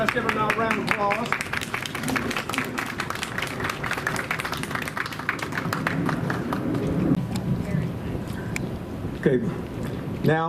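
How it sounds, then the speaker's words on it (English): Round of applause at an outdoor recognition and marker ceremony, a crowd clapping in dense bursts that thin out, with voices talking underneath. "give her another round of applause."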